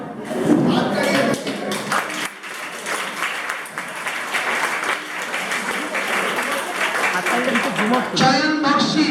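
An audience claps steadily at a speaking event, a dense, sustained patter of many hands, with voices talking over it and a burst of nearby speech toward the end.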